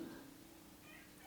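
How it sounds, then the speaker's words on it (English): A single short, faint cat meow, soft and somewhat distant. "That's my cat, Jupiter."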